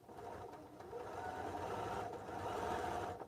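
A computerized sewing machine stitches in a steady, quiet run of rapid needle clatter, close by and uninterrupted, with no speech.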